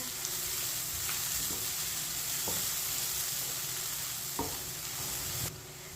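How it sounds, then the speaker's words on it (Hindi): Onions frying in a pan and stirred with a spoon until lightly browned, a soft steady sizzle with periodic spoon knocks and scrapes against the pan. "प्याज को चम्मच चलाते हुए हल्का सा ब्राउन कर लेंगे"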